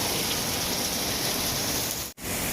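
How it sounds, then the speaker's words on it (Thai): Heavy rain pours down in Khon Kaen, Thailand, during a storm with strong wind, a dense, loud, unbroken hiss that breaks off for a brief instant near the end. "ตอนนี้ฝนตกมาได้ประมาณเกือบครึ่งชั่วโมงแล้วนะครับ"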